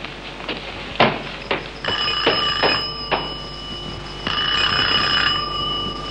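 An electronic phone ring with sustained high tones and bright repeated chirps, fairly loud and steady, with some sharp knocks early on and no talking.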